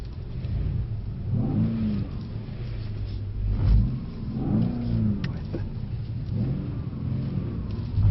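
A Mercedes C63 S AMG drifting on a track, its engine revving in steady surging waves as the rear wheels spin, loud and continuous with rises and falls in pitch over several seconds.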